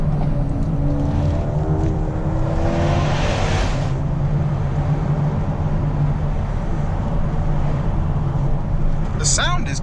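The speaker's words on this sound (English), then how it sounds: "The sound is quite good. It's kind of more induction noise than anything else." A Mercedes A35 engine roars steadily with a throaty intake growl rising in pitch as it accelerates, heard from inside the cabin, with a brief chirp near the end.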